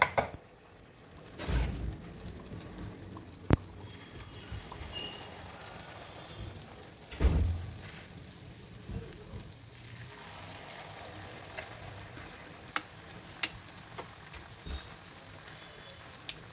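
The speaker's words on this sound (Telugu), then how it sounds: "ఆయిల్ పెట్టుకొని పై కాగించి మన గరిటతో ఇట్లా కొంచెం కొంచెం బూరెలాగా వేసుకోవాలి." Burelu batter fries in hot oil in a kadai, giving a steady crackling sizzle close by, with a few louder bursts and clatters as ladlefuls of batter drop into the pan.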